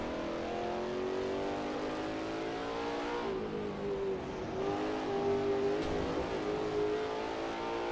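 A touring car engine on the Lakeside Raceway circuit in a racing video game drones at high revs without a break, its pitch dipping and climbing through a corner, steady and fairly faint.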